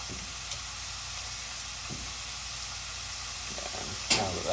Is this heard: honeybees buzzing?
no